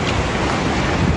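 Hurricane waves from Hurricane Beryl surge and crash beside a roadside highway in St. Thomas, Jamaica, heard as a loud, continuous roar of surf mixed with heavy wind noise, with no voices.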